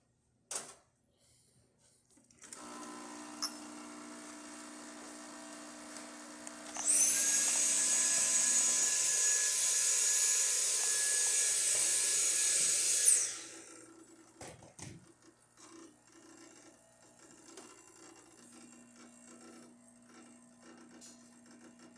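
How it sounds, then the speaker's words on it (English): A Quick Mill Andreja Premium espresso machine, just serviced, pulls a shot: a low steady pump hum starts, then a louder hissing whir holds for about six seconds before dropping back to quiet background noise. "Let's go ahead and test it and make espresso shot in it."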